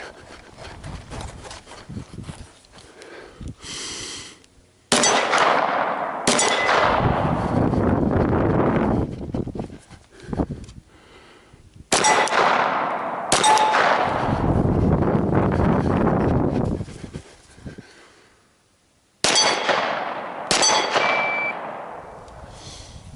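Pistol gunshots ringing off steel targets while the shooter moves, coming in loud sharp bursts of several rapid shots separated by short pauses, close and dominant throughout.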